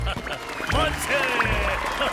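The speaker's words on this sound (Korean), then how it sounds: "부끄럽지만 제 자신에게 박수를 보내고 싶은 생각이 듭니다." Applause breaks out briefly under loud, excited voices, a short burst of clapping mixed with shouting.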